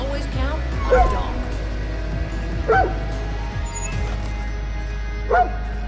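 A dog in Far Cry New Dawn lets out three separate bursts of sharp barks and yips at spaced intervals, close and clear over a steady low game hum.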